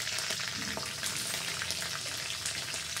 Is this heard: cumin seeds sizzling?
yes